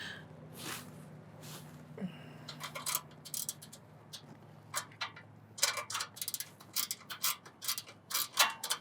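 A ratchet wrench clicking as it turns a bolt on an ebike rickshaw, with bursts of rapid, crisp ratcheting that grow busier and louder toward the end, close by and without talk.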